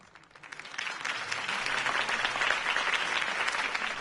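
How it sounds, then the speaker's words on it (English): Crowd applause swells up from quiet and holds steady as dense, continuous clapping after a campaign speech in a video game, fairly close and full with no one speaking. "could have heard that applause"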